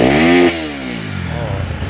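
A motorcycle with a freshly serviced carburetor and diaphragm revs loudly and close for about half a second, its pitch climbing, then drops to a rougher, quieter running idle.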